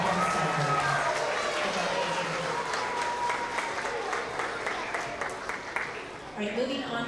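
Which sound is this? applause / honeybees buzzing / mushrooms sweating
applause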